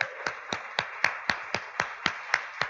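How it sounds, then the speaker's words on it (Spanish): Clapping in a church service, about ten evenly spaced, fairly faint claps in a steady rhythm, roughly four per second. "Denle un fuerte aplauso al Señor"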